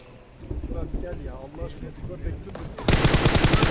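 Gunfire in PUBG Mobile starts as scattered muffled shots and movement, then turns into a loud, rapid burst of automatic fire close by at the end, with wind-like noise underneath.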